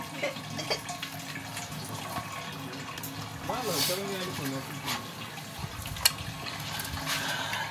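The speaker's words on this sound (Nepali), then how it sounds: "पानी हाल भाइ" Water poured into a pot while cooking a local rooster curry and buckwheat dhindo, a soft steady splashing flow beneath people talking nearby, with one sharp knock midway.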